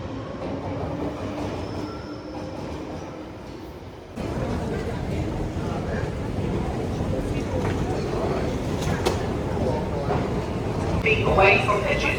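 A London Underground train at South Kensington station rumbles and rattles steadily nearby, growing louder and fuller partway through, with faint voices in the background.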